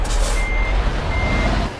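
A truck in Euro Truck Simulator 2 backs up to couple a trailer, its reversing beeps sounding loud and steady over a heavy diesel rumble and a brief hiss of air.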